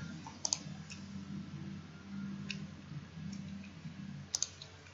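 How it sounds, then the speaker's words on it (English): Several sharp computer mouse clicks in Staad Pro structural design software, two close together near the start and another pair near the end, faint and near over a steady low hum. "Click on run analysis."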